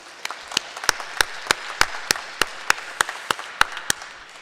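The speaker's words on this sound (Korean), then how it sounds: "힘내시라고 다시 한번 박수하겠습니다" A church congregation at a Sunday afternoon elders' dedication service claps in an even, steady rhythm, about a dozen crisp, fairly close claps in a row.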